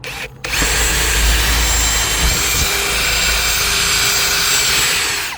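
A bathroom exhaust fan blows air hard and steadily after a short quiet moment, a loud close continuous whooshing hum with a faint high whine running through it.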